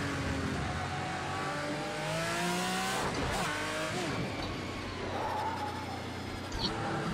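Racing car engine in Project Cars 2 on PlayStation 4, revving and accelerating with shifting pitch sweeps and some tire noise, loud and continuous throughout.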